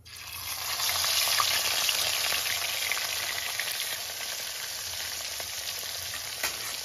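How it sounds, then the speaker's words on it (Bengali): Fish frying lightly in well-heated oil, a steady dense sizzle that swells in the first second and then holds evenly, close and moderately loud, with no voices. "তেলটা ভালো গরম হয়ে গেলে এবার মাছটা হালকা করে ভেজে নেব"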